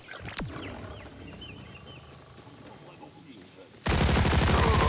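Rapid automatic gunfire from Borderlands 4, a first-person shooter, erupts loud and dense in the final second after a stretch of quieter game ambience with faint chirps and a low whoosh.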